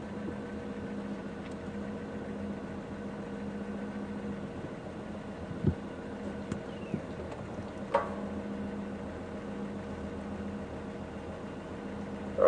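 A safari vehicle's engine idles steadily during an evening game drive at Djuma and Arathusa, a low, quiet hum with a few soft knocks and clicks, and no talking.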